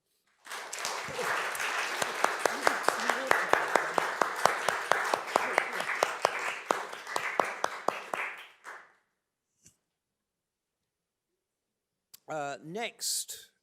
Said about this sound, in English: I'd like to, applaud our two speakers